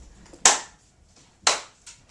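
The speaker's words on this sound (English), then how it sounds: "Claps." Two sharp, loud claps ring out about a second apart from a speech audience, each decaying quickly into near silence, with a fainter third clap at the end.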